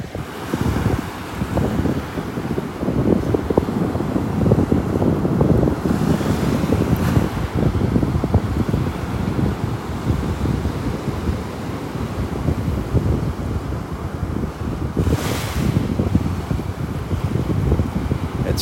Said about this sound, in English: That little breeze.